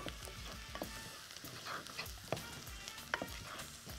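Onions frying in a pan with peeled fava beans added, a steady close sizzle with scattered stirring clicks and scrapes.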